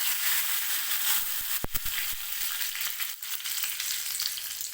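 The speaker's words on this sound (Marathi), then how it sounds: "मोहरी व्यवस्थित तडतडू द्यायची आहे" Mustard seeds, cumin and curry leaves crackle and sizzle in hot oil for a tempering, a steady close frying hiss with a few sharp pops standing out, no talking.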